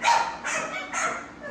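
A dog barks three times in quick succession, sharp and fairly close, with short pauses between each bark.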